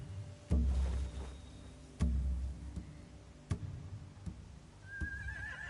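A horse whinnies in the video game The Walking Dead final season, with a few heavy thuds and faint clip-clop sounds spaced through the scene.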